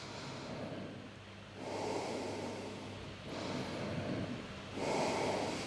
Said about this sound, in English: Now breathe through your nose.